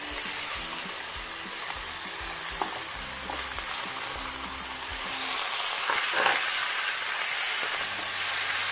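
Chicken, one kilo, frying in a pan for a Malayalam-style pepper chicken, sizzling steadily throughout while a spoon scrapes and stirs with irregular clanks near the start.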